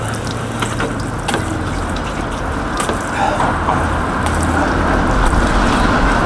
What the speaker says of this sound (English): this is the X-Line with the water on halfway up on the control. You see it's a good steady flow.